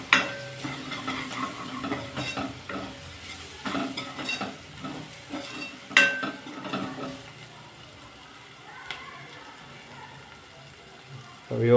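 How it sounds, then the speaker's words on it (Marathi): A spoon scrapes and stirs Malvani masala with onion in a frying pan, close clinks and scraping strokes over a soft background sizzle, busier at first and then quieter. "पुन्हा एकदा आपण चमच्याने व्यवस्थित ढवळून घेऊया."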